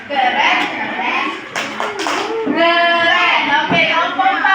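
A class of children claps and chants together in a classroom group-praise routine, with bursts of rhythmic hand claps mixed among young voices and a teacher leading; claps and chanting overlap throughout.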